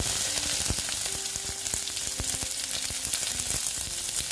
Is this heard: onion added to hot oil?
yes